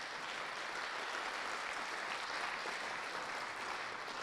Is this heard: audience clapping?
yes